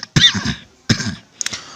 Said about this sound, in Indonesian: aduh, maaf ya, saya batuk ya.